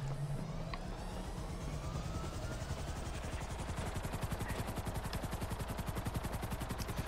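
A helicopter in GTA 5 Online gives a faint, continuous rotor drone with a rapid thumping pulse that grows steadier and more distinct.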